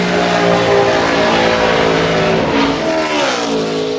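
A NASCAR Sprint Cup race car at full throttle on a qualifying lap at Michigan International Speedway, its engine a loud, steady roar that rises slightly in pitch near the end, with no one talking.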